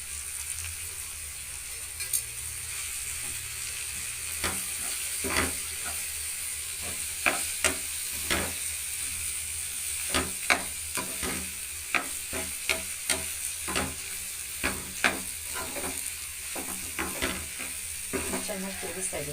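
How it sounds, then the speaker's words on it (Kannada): Mashed potato palya with coriander leaves frying in a pan and being stirred, giving a steady sizzle with repeated sharp scrapes and taps of the spoon against the pan. "ಚೆನ್ನಾಗಿ ತಿರುಗಿಸ್ತಾ ಇದ್ದೀನಿ."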